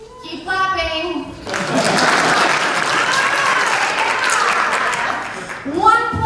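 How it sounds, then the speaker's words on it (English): A crowd keeps up a steady wash of audience applause for several seconds, bracketed by a voice talking just before and after the clapping. "Keep clapping."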